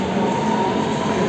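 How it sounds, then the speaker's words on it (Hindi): Metro train at a Dubai metro station, a steady close rumble of rolling wheels and motor hum with a high whine above it, continuous and loud. "हम अलगू भाई का मेट्रो स्टेशन में पहुँच चुके हैं"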